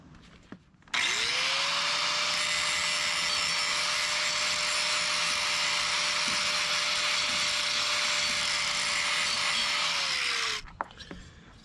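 An angle grinder grinds a shiny spot onto trailer metal for a welding ground clamp, a loud continuous high whine that spins up, holds steady for about ten seconds, then winds down to quiet.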